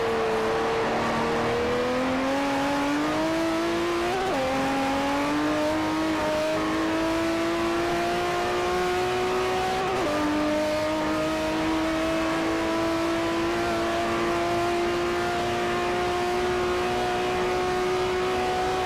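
Race car from Forza 4 lapping Le Mans De La Sarthe, its engine note climbing steadily with two sharp gear changes over a rough, continuous rumble from the tyres on the rumble strips.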